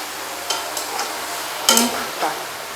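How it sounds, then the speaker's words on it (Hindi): Golden fried taro (arvi) lifted out of hot oil in a pan, soft steady sizzling broken by a few light clinks and scrapes of a utensil against the pan, close by with no voices. "10 मिनट के बाद हम अरबियों को निकाल रहे हैं। ये गोल्डन कलर इनका आ गया है, अच्छी तरह ये फ्राई हो चुकी हैं।"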